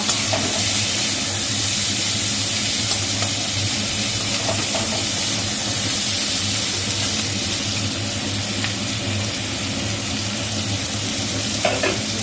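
Onion, chilli and spices fry in a pan for a fish-head and potato curry, producing a loud, continuous close sizzle and hiss with stirring throughout and no voices.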